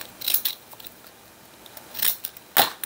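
Decorative deckle-edge scissors snip paper in a few crisp, separate cuts, with quiet pauses between them.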